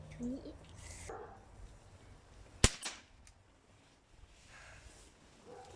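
A Crosman 1377 pump pellet pistol in 4.5 mm fires once outdoors with a single sharp crack, set amid quiet ambience with murmuring voices and a dog barking nearby.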